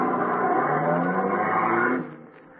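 A car in a radio drama pulls away with a steady engine drone and rising rev, loud and close, then cuts off abruptly near the end.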